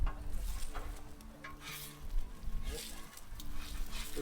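Eggs frying on an overly hot Blackstone griddle for huevos rancheros, a close, busy sizzle with crackling bursts and spatula scrapes, and a voice talking at times over it.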